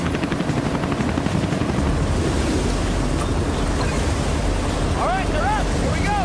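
A helicopter hovers over a boat on open water during a timed stunt contest, its steady rotor drone mixed with wind and surf, loud and continuous throughout, with faint voices near the end.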